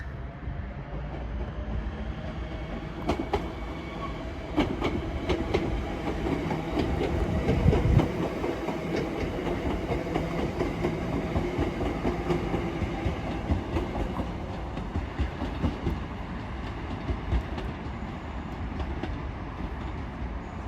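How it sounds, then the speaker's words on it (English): A Class 323 electric train departing Wigan North Western station toward Liverpool Lime Street, a continuous rumble with rhythmic clicking over rail joints, moderately distant and steady, with a brief louder swell midway. "Train now departing is a 323 going to the Lime Street."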